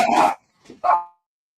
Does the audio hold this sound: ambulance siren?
no